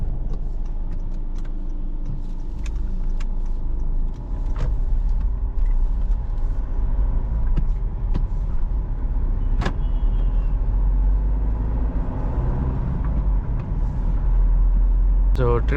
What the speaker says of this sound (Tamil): ஸோ அதனால் அப்படியே ட்ரைவ் பண்ண ஸ்டார்ட் பண்ணலாம்.